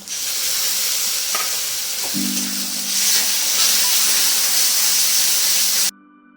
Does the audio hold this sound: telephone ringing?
no